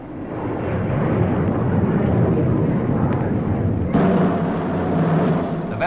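Supermarine Swift jet fighter of the Royal Air Force roaring past in a 1953 flypast, a broad loud rushing rumble that swells and then shifts in tone as it passes, with wind buffeting on the microphone.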